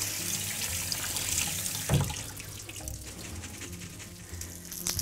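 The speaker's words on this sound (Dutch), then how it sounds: "Die ga ik even afgieten." Water runs steadily into a sink nearby as kidney beans are drained, with a thud and some clattering as liquid pours and drains.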